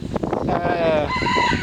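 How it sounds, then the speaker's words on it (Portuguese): A rooster crows outdoors under a clear sky, one long drawn-out cock-a-doodle-doo rising and holding steady, fairly close and clear over faint background noise. "olha o galo cantando"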